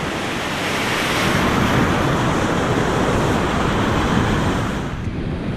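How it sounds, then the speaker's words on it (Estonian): Crashing waves of a stormy sea at Paldiski pound in a loud, continuous roar, heavy surf with wind buffeting the microphone, steady and close throughout with no voices. "Hullumeelsed lained."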